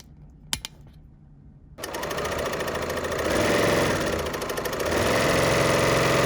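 A fast sewing machine stitching a tote bag: a few sharp clicks, then a sustained, rapid, even mechanical whir that grows louder and continues without talk.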